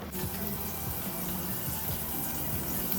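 Tap water running steadily into a sink while vegetables are drained and washed, a continuous close splashing rush with no talk.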